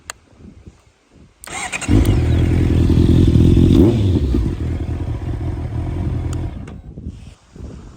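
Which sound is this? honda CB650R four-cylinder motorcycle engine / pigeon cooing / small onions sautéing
honda CB650R four-cylinder motorcycle engine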